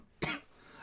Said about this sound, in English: Oh my god, I'm coughing.